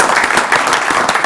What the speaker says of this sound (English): Let's give everyone here a round of applause